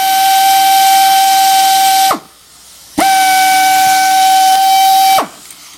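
An Ingersoll Rand air screwdriver runs on compressed air from a small compressor in two loud bursts of about two seconds each, a high steady whine with hiss that cuts off sharply after each run.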